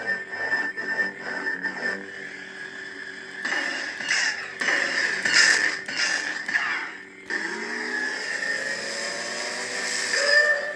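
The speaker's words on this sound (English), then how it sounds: "This is supposed to mimic the lightsaber style / speeder mix of corn horn's lightsaber." Sabertrio Vahlken neopixel lightsaber running a sound font styled after Corn Horn's saber with a speeder mix: a steady humming tone with hissy, whistling swells and surging swings over about ten seconds, loud and close, no talking.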